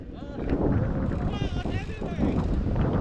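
A fishing boat's engine drones steadily at sea, with wind buffeting the microphone throughout. People talk nearby over the continuous rumble.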